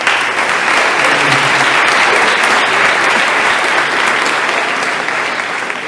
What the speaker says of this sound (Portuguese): Louvem a Deus com as palmas em nome de Jesus